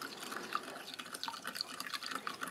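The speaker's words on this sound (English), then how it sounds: "I'm just going to bring in some cold water this time to mix that one" Cold water is poured into a container to mix a sweet ration juice drink, giving quiet, close trickling and dripping splashes that run steadily for a couple of seconds.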